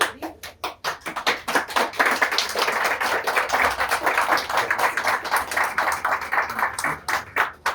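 Audience at a book-evolution panel discussion claps in applause, starting with a few sparse claps that swell into steady, continuous clapping before thinning out again near the end.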